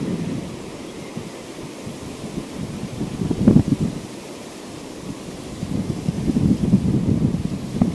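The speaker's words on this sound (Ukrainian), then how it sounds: "Я стою боком, щоб вам вітер не сильно задував." Wind buffets the microphone on a riverbank while fishing for crucian carp: a steady low rumble with gusts swelling around the middle and again toward the end, no speech.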